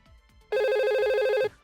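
A simulated VoIP phone rings in a Packet Tracer network exercise: one steady, loud electronic ring tone lasting about a second, starting abruptly and cutting off cleanly, alone against faint background.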